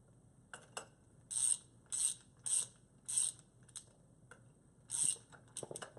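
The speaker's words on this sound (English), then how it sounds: "He is tightening up the weather cap nut." Ratcheting wrench tightening the weather cap nut of a fire hydrant in a hydrant assembly competition, five distinct bursts of rapid clicking close by, separated by short pauses, with a few light metallic knocks.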